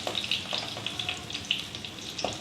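Tinda, a round gourd, frying in oil in a kadai, with gentle bubbling sizzle and scattered small crackles and pops at moderate loudness, with no talking.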